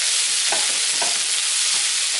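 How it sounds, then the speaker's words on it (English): Seitan being stirred into frying onions in a pan, a loud, close, steady sizzle with a few soft scraping strokes of the spoon. "So now I'm going to go ahead and add my seitan. Just put it on top. And mix this around."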